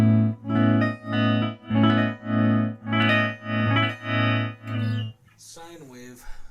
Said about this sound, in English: sine wave tremolo.